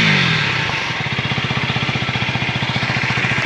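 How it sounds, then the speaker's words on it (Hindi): A 2024 KTM Duke 250 with an underbelly exhaust idles close by with a loud, rapid, even single-cylinder thump over a hissy background, steady for several seconds without talk. "अब आपको अंडर वैली एग्जॉस्ट जो है यहाँ पे देखने को मिल जाएगा, जिसकी साउंड भी चेंज हो गई।"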